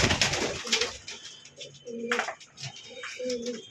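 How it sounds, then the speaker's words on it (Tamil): Ordinary pigeons, some kept for sale, make several low, throaty coos in short repeated phrases, fairly close by. Scattered rustling and background noise surround them. "இது நார்மல் புறா தான்"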